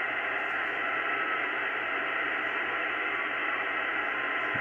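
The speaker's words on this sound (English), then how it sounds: "the beacon got stuck and it just now transmits a continuous tone" A CO-55 amateur radio satellite beacon, stuck transmitting a continuous tone on UHF 436.838, comes through a receiver as a steady tone buried in loud, unbroken hiss and static.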